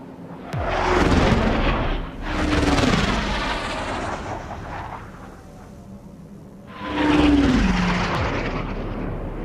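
Jet aircraft roaring past in an Ace Combat 7 flight combat game, a UAV flying in loud repeated swells of engine noise with deep rumbling booms.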